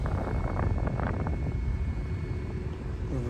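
A 5-inch Royal Blue Blades fan running at full power in a bathroom makes a loud, steady rushing whoosh of blown air with a low rumble, close to the microphone and unbroken throughout.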